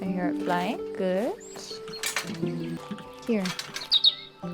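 Bird calls in the video game Botany Manor, quick rising chirps in short bursts near the start and again later, mixed with gentle music tones and occasional speech.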